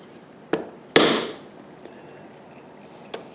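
A small hammer strikes an awl to punch holes in a wood carving: a light tap, then one sharp ringing blow that decays slowly, followed by a faint final tap, close and otherwise quiet.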